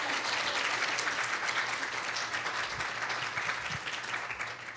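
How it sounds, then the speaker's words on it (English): A seated audience at the close of a veterinary specializations panel gives a steady, moderately distant round of applause that holds for several seconds and tapers slightly at the end, with no voices. "Can we give another round of applause, please?"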